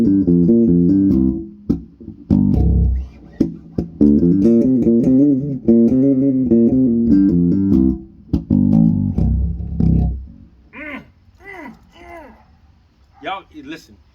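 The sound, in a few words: Fender 1997 electric guitar played through its pickups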